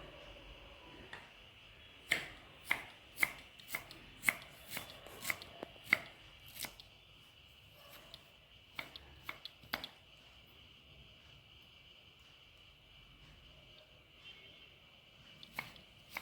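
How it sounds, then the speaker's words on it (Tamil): A knife finely chopping onion and ginger on a board for onion pakoda, a quick run of sharp, close taps followed by scattered single chops and a long quiet stretch, with a steady faint hum underneath. "நல்லா இப்படி பொடி பொடி பொடி பொடியாக நறுக்கினா"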